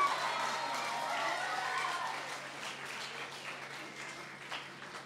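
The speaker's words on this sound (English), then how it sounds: "Please, a round of applause to the two teams again." Audience applause for two debate teams at a debate event, a broad steady clatter of clapping that fades slowly over the seconds with no talk.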